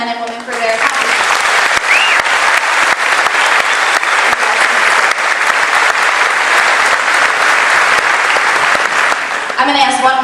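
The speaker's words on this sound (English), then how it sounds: "Please applaud these young men and women for their accomplishments." An audience at a 2013 Genoa High School graduation ceremony breaks into loud, sustained applause for the graduates, a dense wash of clapping that fills the hall after a brief voice at the start and continues to the end.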